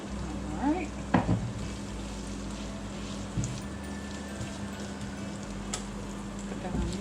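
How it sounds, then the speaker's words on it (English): Shrimp-and-grits ingredients sauté in a pan over medium heat, giving a steady low sizzle throughout with a few brief clinks and scrapes of stirring near the start and end. "Saute this for about 2 minutes or so."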